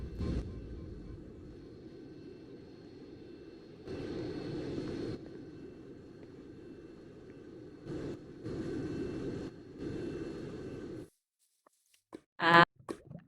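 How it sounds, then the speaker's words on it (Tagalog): An airplane flies overhead as a low, steady rumble that swells and drops in segments, then falls quiet before a brief sharp high-pitched squeal near the end. "Meron na namang eroplano."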